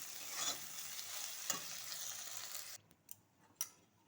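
Okra stirred while frying in a kadai, a steady close sizzle with spatula scrapes and clinks, the frying fading abruptly near the end, leaving a few sharp utensil taps over near silence.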